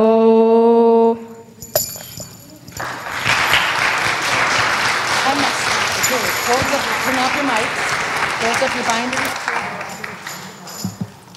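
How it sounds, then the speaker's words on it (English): A chapel congregation applauds a band after a song; the last sung note cuts off and loud, dense clapping swells and holds for several seconds, with cheers and voices mixed in. "Let's give them another round of applause."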